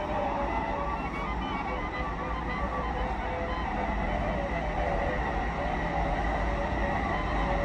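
Warsaw Metro train running underground on the M1/M2 lines, a steady loud rumble and roar of wheels and motors heard from inside the carriage, with a faint tonal whine and no clear talk.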